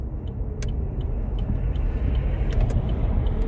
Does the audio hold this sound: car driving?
yes